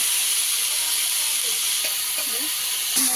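Leafy greens stirred and fried in a pan make a steady, bright hiss of frying close by, with faint scraping movements and a soft knock near the end.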